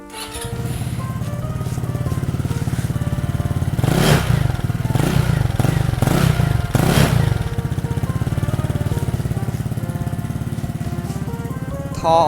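A 2020 Lambretta V200 Special scooter idles with a soft, steady thumping exhaust note, close and even, briefly blipped a few times before settling back to a low, mellow putter.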